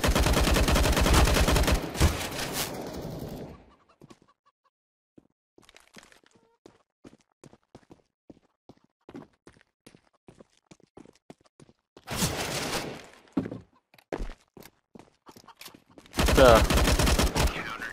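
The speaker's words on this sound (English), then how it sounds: "You shouldn't be shooting me until when I'm ready." Gunfire in CS:GO, a loud burst of rapid shots at the start, then quiet with scattered faint clicks and footsteps, and two more loud bursts of automatic fire near the end.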